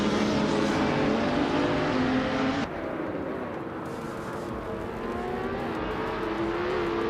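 Race car engines roar steadily at the start of a race in a racing video game, a dense continuous drone of several cars with a sudden drop in level partway through, then a sustained engine hum with no voices.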